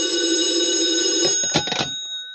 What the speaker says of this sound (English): if the phone rings, I'll answer it because it'll be for me